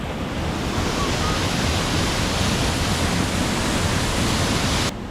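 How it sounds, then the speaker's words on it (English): Main waterfall on a river pours in a continuous broad roar of rushing water, loud and steady with some wind buffeting, cutting off abruptly at the end. "This here is the main waterfall."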